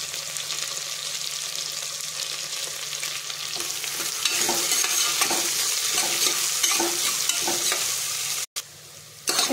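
Mustard seeds and onion frying in a pot, a close steady sizzle that swells as stirring clatters in, with a brief cutout near the end before the crackle resumes.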